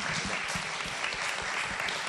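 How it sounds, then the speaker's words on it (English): Steady audience applause fills the room for a debate moderator, dense continuous clapping at an even level with no break. "Can we clap for Bob for participating with the moderation."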